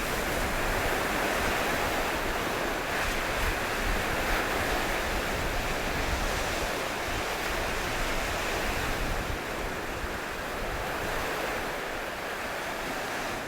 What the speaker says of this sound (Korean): 파도는 하얀 거품을 일으키며 연신 바위를 때린다